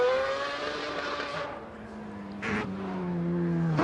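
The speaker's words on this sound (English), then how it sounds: "Car number 139, the extraordinary Mazda FDRX7 of Mike Whitted, entered by Red Bull UK" Mike Whitted's Mazda FD RX7 race car, fitted with a Rocket Bunny kit, runs a hill climb course near Molecombe. The engine whines at high revs, drops away briefly, then climbs again through quick shifts at moderate distance.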